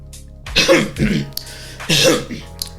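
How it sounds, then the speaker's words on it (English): Two bursts of harsh coughing, close up, the first a quick double cough and the second a single heavier one, with a short throat sound at the end. "I'll edit that out because I'm coughing."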